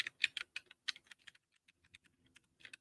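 Keys on a computer keyboard clack in quick irregular bursts, close and fairly quiet, with short pauses between groups of strokes and no talking.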